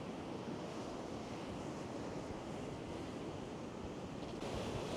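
Sea waves break on the beach at Gorleston on Sea, a continuous broadband roar of surf mixed with wind buffeting the microphone, steady and unbroken with no voices.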